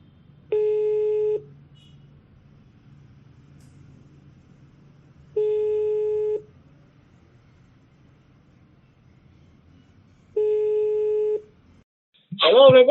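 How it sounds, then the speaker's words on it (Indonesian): Telephone ringback tone while a phone call is being placed: three long, evenly spaced steady beeps with about four-second pauses over a faint low hum, and a voice begins at the very end. "coba kita telepon salah satu nih"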